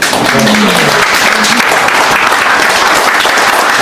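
Loud, close applause rises from an audience at a civic association's founding event, a continuous wall of clapping that holds at full strength for its whole length, with a voice fading out at the very start.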